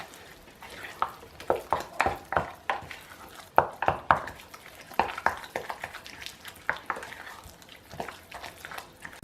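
A spoon scrapes and swirls through thick turmeric paste as coconut oil melts into it, giving a steady run of close, sharp stirring clicks and scrapes against the bowl with no talking.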